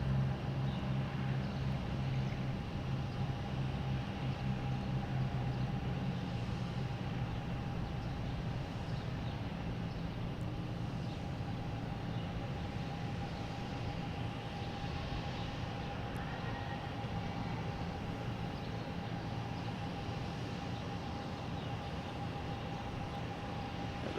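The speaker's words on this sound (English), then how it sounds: "next is Alaskan Airlines coming in from Portland, landing on 27." Steady broad jet roar from an Alaska Airlines plane arriving from Portland and landing on runway 27 at Boston Logan, a constant loud rumble with a faint steady whine, no speech.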